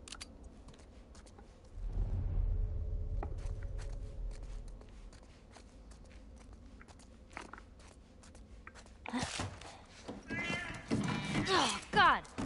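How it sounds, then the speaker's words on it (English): A cat meows in the game The Last of Us Part I, a few short cries near the end over steady game ambience, with a low rumble earlier and a person talking at times. "Fucking cat."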